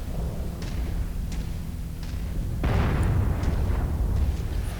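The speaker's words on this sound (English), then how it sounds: "The AI are really good at not getting hit by artillery." Artillery explosions in the video game Mechwarrior 5 Mercenaries, a few faint distant thuds followed by one loud, close booming blast that rumbles on over a constant mechanical hum.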